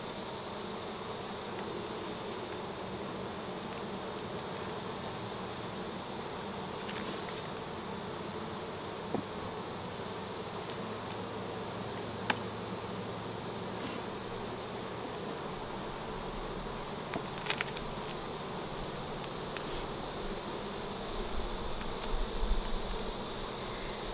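Honeybees buzz during a hive inspection, a faint, steady drone that holds throughout with a few small clicks and a brief low thump near the end.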